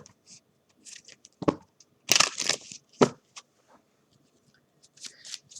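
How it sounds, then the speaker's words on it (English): A few short bursts of tarot cards being shuffled and riffled, close and crisp, separated by quiet pauses. "Shuffle the yes or no deck again."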